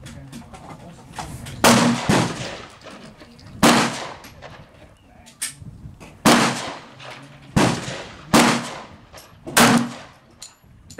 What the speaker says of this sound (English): I'm going to be firing two sets of 15 rounds.